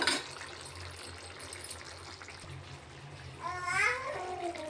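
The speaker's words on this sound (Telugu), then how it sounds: "చింతపండు నానబెట్టానండి ఇవన్నీ పిసుకుతానండి పిసికేస్తానండి" Soaked tamarind squeezed by hand in a bowl of water, producing soft, continuous wet squelching and sloshing close by, ending in a brief louder splash.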